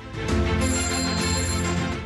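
A telephone rings over a dense music bed, its bell-like tone repeating steadily through the short stretch, fairly loud and without speech, as part of a Hindi farming advice programme announcing a farmers' phone-in helpline.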